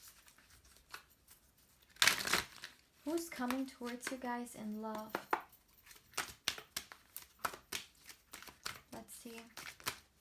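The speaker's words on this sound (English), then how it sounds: "Let's see, one more shuffle." Tarot cards are shuffled by hand in quick, crisp riffling bursts with sharp slaps, close and fairly loud, while someone talks throughout.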